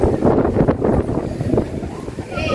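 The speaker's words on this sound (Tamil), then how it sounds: "பயங்கரமாக காற்று அடிக்குது" Strong wind blows outdoors during rain, buffeting loudly and unevenly with gusty rumbling under a person's talking.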